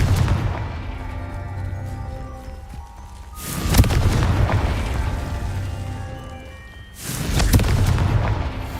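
Confringo spell blasts in the video game Hogwarts Legacy: two loud booming explosions a few seconds apart, each with a sharp crack followed by a rumbling decay.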